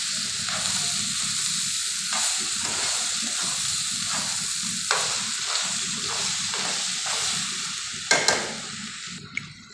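Peppers and onions fry in a pan with a steady, dense sizzle, broken by a few louder clatters of stirring and a sharp knock near the end.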